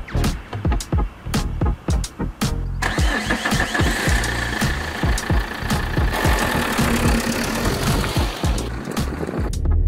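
A 2006 Saab 9-3 1.9 TiD diesel engine cranks with rapid rhythmic chugging, catches after a few seconds, then runs and revs roughly up close.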